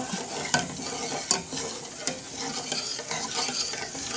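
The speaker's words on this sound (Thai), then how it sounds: "คนไปให้กะทิกระป๋อง ที่เทจากกระป๋องละลายนะคะ คนไปเรื่อย ๆ" Canned coconut milk stirred in a pot over medium heat, a steady sizzling bubble with a few sharp scrapes of the spoon against the pot, close and fairly loud.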